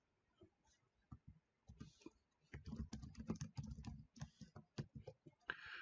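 Code is typed on a computer keyboard in irregular bursts of quick, close key clicks with short pauses, loudest in a dense run in the middle and quiet between strokes.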